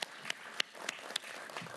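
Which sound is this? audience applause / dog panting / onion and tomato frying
audience applause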